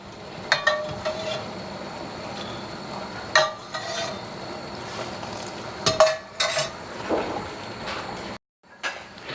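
Parmesan risotto cooks in a pan with stock, giving a soft continuous simmer under sharp scrapes and clinks of a spoon stirring against the pan at close range.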